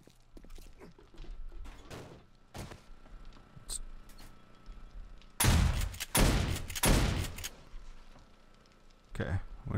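Electric-powered turrets in the 7 Days to Die video game firing at zombies, a quick volley of sharp mechanical shots in the middle after softer scattered thuds, fairly quiet overall, with a voice talking in the background.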